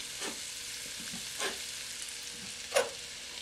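Bacon frying in a pan for a sausage and cabbage meal: a soft, steady sizzle with a few brief louder crackles and spatters popping through, heard close with no talking.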